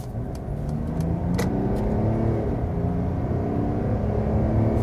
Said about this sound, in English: now here we go, acceleration of the diesel